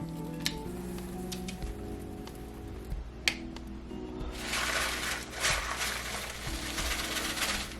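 Candy pieces sprinkled over peppermint bark: scattered small ticks and clicks at first, then a denser patter of bits landing close by, with no talking.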